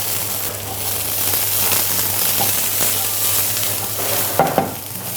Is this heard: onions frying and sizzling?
yes